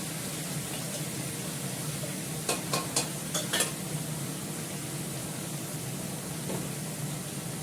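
Ginger paste fries in a hot pan with a loud, dense, continuous sizzle, joined partway through by a quick burst of four or five sharp metal scraping clicks from stirring.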